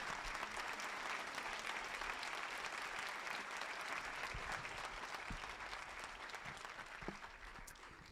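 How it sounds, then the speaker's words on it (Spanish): A church congregation applauds steadily and at length, a dense wash of clapping that holds even and full throughout, easing off only slightly near the end with no voices over it. "¿Podemos dar un aplauso al Señor?"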